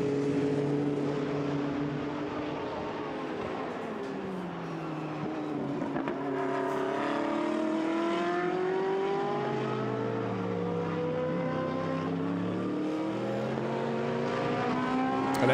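AF Corsa Ferrari and other GT race cars in a Blancpain GT Sports Club free practice session at Hungary, engines roaring continuously with rising and falling revs as several cars pass and shift gears, loud and close throughout.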